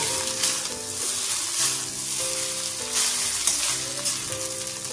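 Noodles tossed with masala and egg sizzle and fry in a pan, a continuous loud crackle with scraping stir strokes and faint tonal clinks, no voices.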